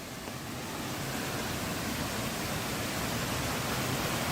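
A small waterfall with a good flow of water, near Cherrapunji in Meghalaya, makes a steady, broad rushing roar that stays constant throughout. There is no talk.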